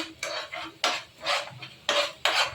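A spoon scrapes through egg curry gravy in a pan in several distinct, close strokes, each a brief gritty rasp with short pauses between.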